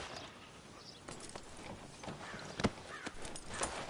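A horse walks at an easy pace in Red Dead Redemption 2, its hooves giving faint, irregular clip-clops over a quiet background.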